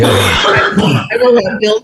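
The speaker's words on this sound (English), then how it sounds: "I got a cough all of a sudden." A short burst of coughing or throat clearing, close and rough, followed by a voice starting to speak.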